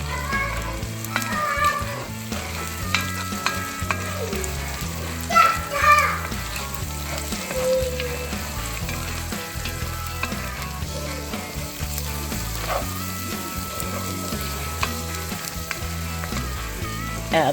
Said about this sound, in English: And we're going to give this a stir.